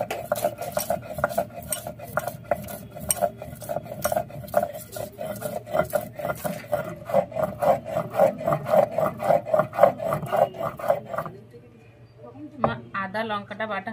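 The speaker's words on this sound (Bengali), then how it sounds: "ডাল বাটা শিলের মধ্যেই আমরা আদা কুচি আর লঙ্কাটা একসঙ্গে বেটে নেব।" Chopped ginger and green chilli are ground on a stone slab still coated with ground split-pea paste, making a brisk, rhythmic scraping of stone on stone that runs for about eleven seconds before stopping.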